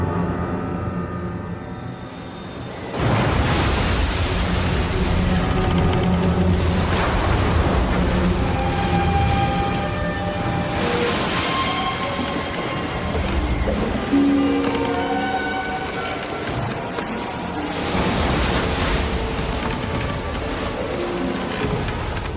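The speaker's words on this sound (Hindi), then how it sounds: "आंधी के कारण झील में लहरें उठने लगी" Steady rushing roar of wind-driven waves churning on a lake during a storm, continuous and loud with surging swells rising and falling, no voices.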